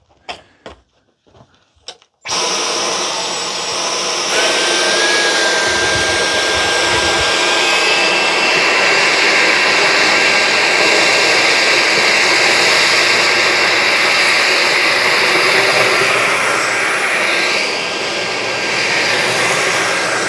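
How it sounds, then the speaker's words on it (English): Two vacuums, a Bissell FurGuard 4039 and a Dyson V9, run together on high over a carpet, giving a loud, steady motor whine and airflow roar that starts abruptly after a few faint knocks and holds without a break. "I'm gonna turn them both on high for this."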